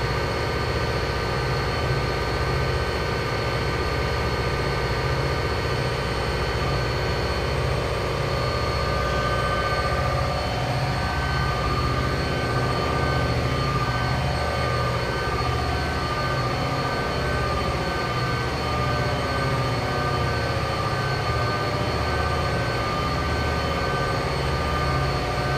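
A Union Pacific SD70M diesel locomotive in Train Simulator 2015 runs on the Donner Pass line with a steady, loud engine drone and rumbling wheels, while tonal whines slowly bend in pitch through the middle.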